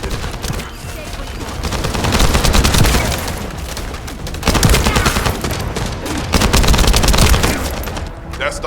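Rapid automatic gunfire rattles through a firefight in the video game The First Descendant, loud sustained bursts in several waves separated by brief lulls, with a voice heard faintly underneath.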